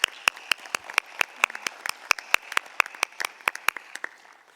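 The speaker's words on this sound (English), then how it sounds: "a big applause to all" Scattered hand claps from a small conference session audience, a couple of dozen distinct sharp claps at an uneven rhythm, fairly faint and thinning out toward the end.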